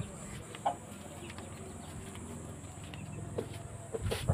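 Aseel chickens kept for a hobby give a few soft, scattered clucks close by, over a steady low farmyard hum, with a louder burst of bird sound near the end.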